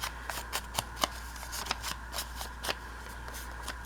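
Journal card edges are distressed with a tool, giving a quiet run of quick scraping strokes in an uneven rhythm over a low steady hum, close to the microphone and with no talk.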